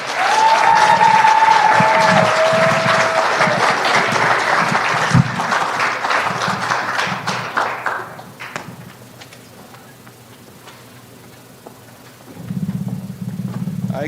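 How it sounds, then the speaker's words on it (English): A conference audience applauds loudly as a speaker is welcomed onto the stage, dense clapping lasting about eight seconds before fading into quiet room tone, then a short renewed burst of noise. "Let's welcome Nate to the stage with a round of applause, you guys."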